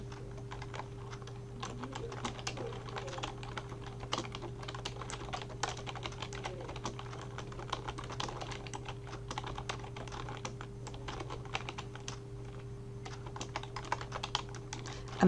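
Rapid keystrokes on a computer keyboard form a steady stream of close, crisp clicks with uneven rhythm and brief pauses, running over a low steady hum for about fifteen seconds without talk.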